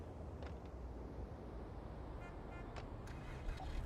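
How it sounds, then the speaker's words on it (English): A car engine starting up and running in The Matrix Awakens video game demo, a low, steady rumble with a few faint clicks and knocks on top, fairly quiet and with no talk. "the car sounds, the way it starts up, everything sounds like real life in this game"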